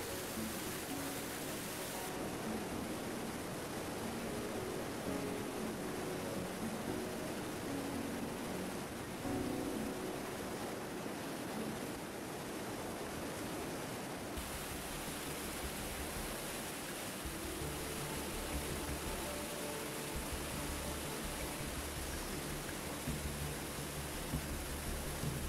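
Steady roar of the Krčić river waterfall below Dinara, a dense continuous rush of falling water close by with no voices, its texture shifting slightly partway through.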